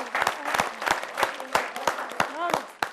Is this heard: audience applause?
yes